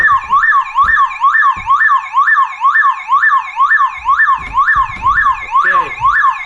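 A car alarm wails loudly and close by in a fast, repeating up-and-down siren sweep during a demonstration, with a few faint knocks and handling noises underneath.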